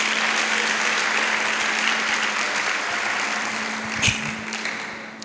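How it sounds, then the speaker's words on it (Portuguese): A church congregation claps hands steadily throughout a worship service, a dense, continuous wash of applause from a large room, with a brief louder burst near the end and a low sustained tone underneath. "bata palmas para Jesus"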